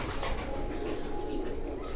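Pigeons on a rooftop in Jalalpur Bhattian give soft cooing and wing flaps over a steady hum of background noise, continuous and fairly faint, with no one talking.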